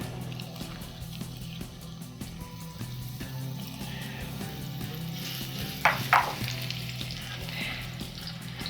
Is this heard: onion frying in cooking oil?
yes